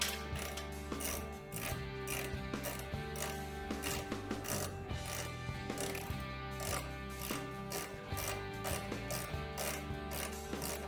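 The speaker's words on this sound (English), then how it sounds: "keep feeling how tight this is getting when we're tapping the hole" A tap is worked by hand into a threaded hole to mount a window in a bus wall, giving faint repeated ratcheting and metallic creaks in an uneven rhythm, heard close with no talk.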